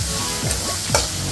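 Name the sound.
turmeric being sautéed in a pan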